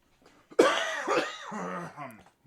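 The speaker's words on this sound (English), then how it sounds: "Whooping cough." A single harsh whooping-cough fit sounds up close, starting with a sudden forceful burst and trailing into strained, voiced, wheezing gasps over about two seconds.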